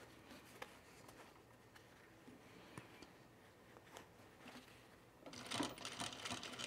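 A sewing machine stitches a thick seam on a baby bag, a faint rapid stitching patter that turns louder and busier near the end, close by in a quiet room.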